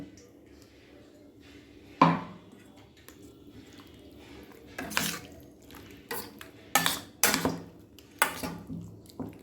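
Ground spice paste being mixed by hand into food in a bowl for a Bengali home lunch, heard as soft, close squishing and a few sharp clinks of a metal bowl, with quieter stretches in between.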